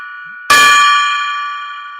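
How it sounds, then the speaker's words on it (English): A gong struck once, loud and close, with a bright metallic clang that rings on and slowly fades over the following seconds. "Let's ring the gong."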